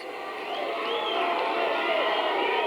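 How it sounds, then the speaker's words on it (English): Boxing crowd chanting for Holly Holm during round three of her pro bout against Shadina Pennybaker, a steady arena roar with rhythmic voices swelling slightly and holding loud throughout. "The crowd now chanting for Holly"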